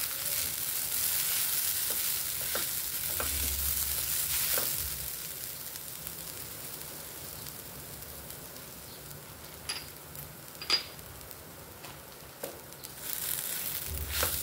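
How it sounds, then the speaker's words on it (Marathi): Coconut filling with grated jaggery sautéing in ghee gives a soft, steady sizzle throughout, broken by occasional light clicks and taps of stirring, with no talk. "थोडासा आपण हा परतून घ्यायचा आहे तुपामध्ये"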